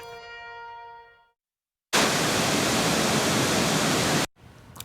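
The Spokane River falls at Riverfront Park pour out a dense, steady roar of rushing water, loud and unbroken for a couple of seconds after a brief tonal sound and a moment of silence.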